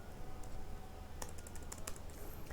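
Keys clatter on a computer keyboard while network commands are entered, a quick run of close, crisp taps with a final keystroke, quiet room background and no talking.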